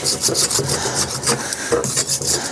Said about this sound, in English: So we give that a little bit of a fettle. Take them swarfs off.